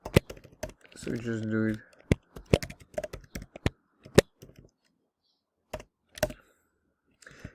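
Quick, scattered keystrokes on a computer keyboard as a password is entered in a terminal, close and crisp with pauses between bursts, while someone speaks briefly.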